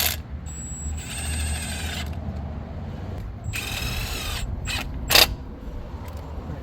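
A ratchet tightens thermostat housing bolts on a 5.7 HEMI engine in a Charger or Challenger, giving short bursts of rapid metallic clicking separated by pauses, plus one sharp clank near the end.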